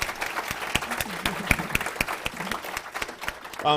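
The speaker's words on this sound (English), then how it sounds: "round of applause for Tanisha" An audience gives a round of applause for a guest at the close of a CEO interview session, a full, steady wash of many hands clapping with distinct sharp claps standing out, sustained throughout.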